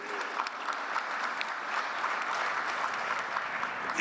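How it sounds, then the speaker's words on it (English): Audience applause at a climate summit of small island developing states during COP29, a large hall clapping steadily and evenly throughout, moderately loud and sustained. "I'd like to pause for a second and give a big round of applause for the work they've done to bring us here."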